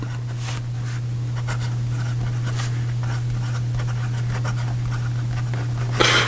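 Fountain pen with a medium steel-style nib that writes broad scratching across paper, faint soft strokes over a steady low hum, with a brief louder scrape at the end.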